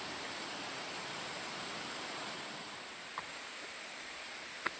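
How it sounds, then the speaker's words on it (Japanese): A low-flow waterfall at Mount Mukabaki, only trickling, gives a steady wash of falling water at moderate distance, with a couple of faint clicks near the end. "水量がないです。 ちょろちょろしか流れてません。"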